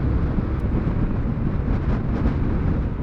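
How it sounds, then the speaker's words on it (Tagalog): Loud, roaring wind buffeting the microphone during a ride on a Yamaha Aerox V2 scooter along a bypass road, a constant low rumble with no letup. "lakas ng hangin"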